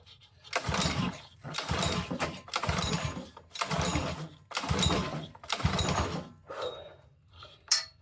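A Honda pressure washer engine with no fuel tank or hoses sputters in repeated rough bursts about a second apart, loud and close, the last bursts weaker and ragged, with no talk.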